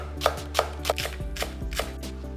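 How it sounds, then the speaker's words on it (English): Knife slicing two spring onions into 5mm pieces on a cutting board for yakisoba, a quick run of about eight crisp, close chops. "Slice 2 spring onions into 5mm pieces."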